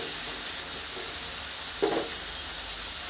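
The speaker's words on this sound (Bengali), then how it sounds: "এটাও 1 মিনিট ভেজে নিব হালকা" Mixed vegetables fry lightly in a pan, giving a steady, gentle sizzle close by, with a brief scrape of stirring partway through and no talking.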